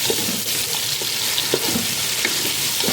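Onion rings frying in oil and being stirred with a spoon, a dense continuous sizzle broken by scattered scraping and clinking stirs, close and loud with no talk.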